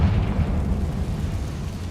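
A Confringo spell explosion in a wizarding video game: a loud, low, rumbling blast that rolls on steadily for a couple of seconds with no clear attack, heard on its own.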